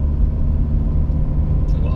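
BMW 120d with N47D20 diesel engine and timing chain, a steady low rumbling drone heard from inside the car, continuous and fairly loud with no talk.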